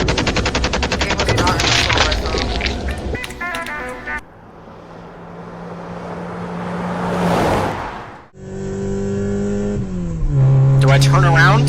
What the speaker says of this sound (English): I got an assault rifle right here